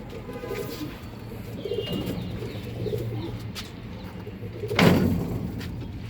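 Pigeons coo softly in a loft, low rounded calls repeating among faint background noise and a sharper sound near the end.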